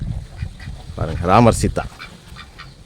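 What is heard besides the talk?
Muscovy and Pekin ducks quacking in a pen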